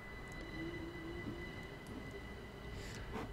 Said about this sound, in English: What is this train?